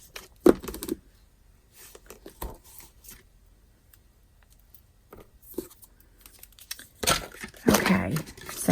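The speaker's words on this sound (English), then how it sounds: "I'm just going to put 1 piece of tear and tape right there." Tear-and-tape adhesive pressed onto the bottom front of a paper cake box, heard as short crinkly paper rustles, with a louder, longer burst of crumpling near the end.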